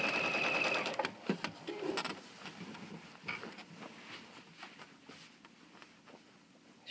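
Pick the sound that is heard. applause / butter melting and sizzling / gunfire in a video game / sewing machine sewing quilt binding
sewing machine sewing quilt binding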